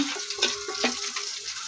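Ground spice paste loosened with a little water sizzles and bubbles briefly in a hot pan for a shrimp curry, close and moderately loud.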